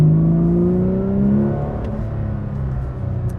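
A Porsche 992 GT3 Touring with an aftermarket exhaust revs loudly and close, the pitch climbing then falling away into a rough, burbling idle from the exhaust.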